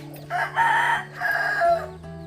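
Pet rooster crowing twice in quick succession at moderate distance, each call a drawn-out rising-then-falling cry, with a faint steady hum underneath and no talking.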